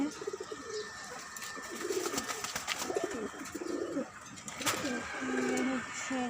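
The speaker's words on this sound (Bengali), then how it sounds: "লক্ষ কবুতর আছে" Pigeons in a rooftop garden coo in a steady series of soft, low phrases, moderately near, over faint background noise.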